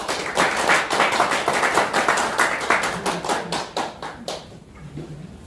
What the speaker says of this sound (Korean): 정치 1번지에 출소표를 던진 유문천 후보께 큰 격려의 박수 다시 한번 부탁드립니다